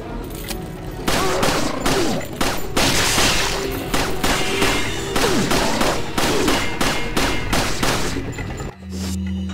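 Rapid pistol gunfire in Resident Evil 4, loud close shots in a dense irregular volley over several seconds, ending abruptly before a low game ambience.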